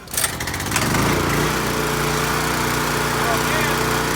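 Ditch Witch 100SX trencher engine starting and then running steadily, a loud, close, high-revving small-engine roar that holds constant after a short rough start.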